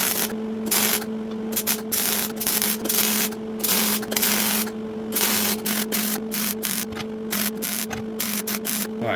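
An arc welder crackles and sputters while filling cracks on a homemade metal shield, a loud, continuous sizzle broken by rapid irregular pops and short pauses.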